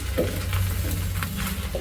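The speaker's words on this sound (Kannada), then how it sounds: "ಒಗ್ಗರಣೆನ ಖಾರ ಪೊಂಗಲ್ಗೆ ಮಿಕ್ಸ್ ಮಾಡ್ತಾ ಇದ್ದೀನಿ" A sizzling tempering is stirred into khara pongal made in a pressure cooker, Iyengar temple style. Close, steady stirring and scraping run under a bright continuous sizzle, with no talk.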